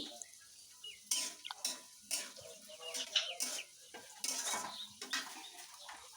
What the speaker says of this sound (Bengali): এখন সব কিছু একসাথে খুব ভালো করে নেড়ে চেড়ে মিশিয়ে আমি একটু কষিয়ে নেবো